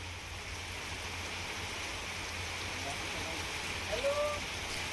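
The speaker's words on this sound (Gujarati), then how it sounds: "ધોધમાર વરસાદની શરૂઆત થઈ છે." Heavy monsoon rain in the Khambha area of Amreli, Gujarat, a steady broadband hiss of downpour holding even and unbroken throughout, with a low hum underneath and a few faint chirps near the end.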